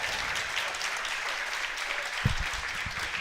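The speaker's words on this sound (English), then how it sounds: "Let's give Adrien and Michael a big round of applause." An audience applauds two guests at a live evening show in a bar and restaurant inside the Harley-Davidson Museum, a dense, steady wash of clapping at moderate level with a brief low thump near the end.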